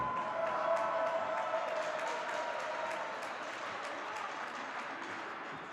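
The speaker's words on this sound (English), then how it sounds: "a big round of applause for Team Howe MVP" Crowd applause at a hockey fantasy camp championship awards ceremony, sustained soft clapping that fades slightly over several seconds, somewhat distant and faint.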